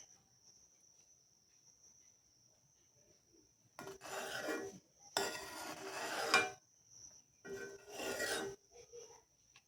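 A spoon scrapes across a pot, skimming foam off boiling mung dal: three rasping bursts of scraping separated by pauses, over a faint steady high whine and quiet simmer.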